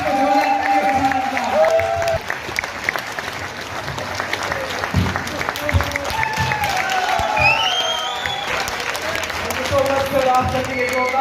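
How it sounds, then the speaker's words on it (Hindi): A large audience applauds steadily and loudly at an Atomy imperial master success event, with scattered cheers and voices mixed into the dense clapping throughout. "आप सभी एक जोरदार क्लैपिंग कर सकते हैं।"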